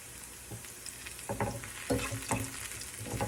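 Ground beef frying in a pan for a mashed cauliflower pie, a steady low sizzle with a few sharper scraping and stirring bursts rising over it, close and fairly quiet.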